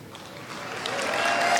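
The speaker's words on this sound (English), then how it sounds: "That's not good when they applaud your age." A live audience at a talk applauds, a dense wash of clapping that swells steadily louder over a second and a half.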